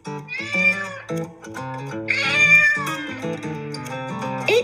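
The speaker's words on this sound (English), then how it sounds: "It's a cat." A domestic cat meows repeatedly in clear, close tones, several drawn-out calls rising and falling in pitch with short pauses between them, loud and alone with no talking.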